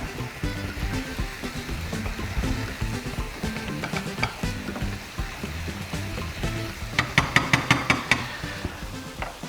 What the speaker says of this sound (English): Then you mix all of that in.